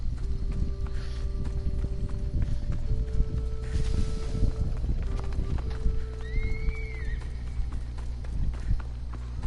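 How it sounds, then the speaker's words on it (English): A horse moving with steady clip-clopping hooves and a brief whinny, over constant background tones and ambient noise. "It's a horse."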